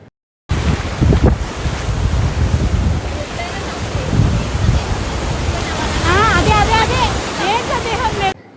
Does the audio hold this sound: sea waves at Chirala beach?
yes